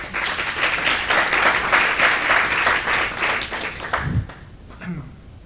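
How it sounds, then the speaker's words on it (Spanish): An audience at a design assembly of the Basque art and design school gives a welcome round of applause, thick sustained clapping that fades out near the end as a voice starts speaking. "Un aplauso para Josu."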